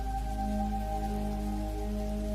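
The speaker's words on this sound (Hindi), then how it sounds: "इतनी जोर से बारिश होने लगी कि पैदल घर आना ही मुश्किल हो गया।" Heavy rain pours down in a forest near a village as a steady, dense hiss of falling water, with a low sustained tonal drone underneath and no voices.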